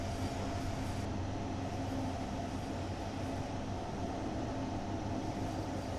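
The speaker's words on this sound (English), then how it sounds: "Oh, and there's a regional express going in the other direction." A regional express train in Train Sim World 2 on the Rhein-Ruhr Osten route passes in the opposite direction, a continuous loud rumbling roar of wheels and rails that stays steady throughout.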